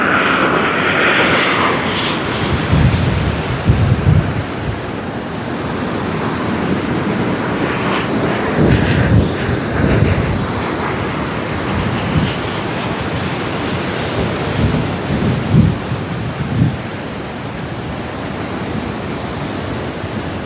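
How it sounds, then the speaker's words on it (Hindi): A fast mountain river in the Bhaba Valley of Kinnaur rushes past as a steady, loud, broadband roar. It continues without a break and has no talk over it. "ये देख लो भाई, पानी की आवाज़"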